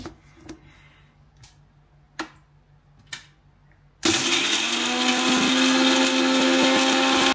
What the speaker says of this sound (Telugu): నెక్స్ట్ ఇప్పుడు గ్రైండ్ చేసేసుకోవాలి.